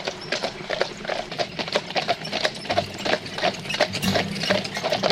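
Trait du Nord draft mares trotting, a steady rhythmic clip-clop of heavy hooves repeating throughout at moderate distance, with a faint low rumble underneath and no talking.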